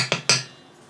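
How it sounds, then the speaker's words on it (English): A whisk fetched from among kitchen utensils, two sharp metallic clanks in quick succession, close and fairly loud, followed by quiet. "excuse me while I get a whisk"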